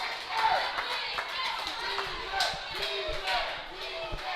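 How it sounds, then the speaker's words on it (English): A wrestling crowd at a live event cheers for its heavyweight champion, a broad, rolling roar with scattered shouts and claps beneath a commentator's voice. "you hear the appreciation from this crowd for our heavyweight champion"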